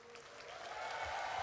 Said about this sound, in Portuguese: Palmas para os nossos atores